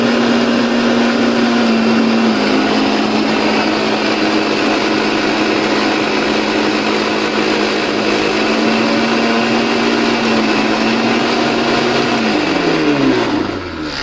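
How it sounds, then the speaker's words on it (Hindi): A mixer grinder grinds coffee at home for a cappuccino. It gives a loud, steady, close motor whine for about twelve seconds, then winds down as the motor spins to a stop. "मिक्सर, ग्राइंडर बोलते हैं हम लोग उसको"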